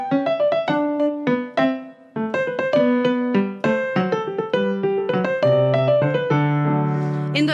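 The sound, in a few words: irregular stumbling rhythm imitating Sancho Panza's donkey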